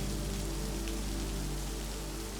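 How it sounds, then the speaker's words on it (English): Steady rain falling on a surface, a dense, even hiss with no breaks and no voices, heard for a couple of seconds behind a soft low hum. "the sound of the rain"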